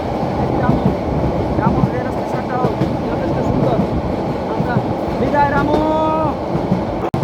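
A train rumbles steadily past Ramu railway station in Bangladesh, a continuous loud mechanical roar with a few high screeching tones near the end and some background talk.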